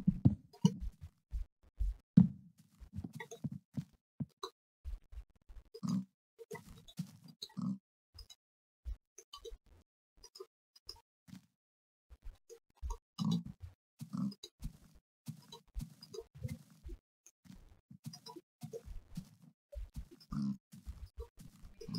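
A Minecraft pig grunts and oinks repeatedly in short irregular bursts, fairly faint, with quiet gaps between clusters of snorts.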